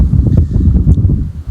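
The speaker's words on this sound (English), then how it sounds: "it is really windy today" Strong wind on a farm buffets the microphone in loud, gusty low rumbles that rise and fall in rapid bursts.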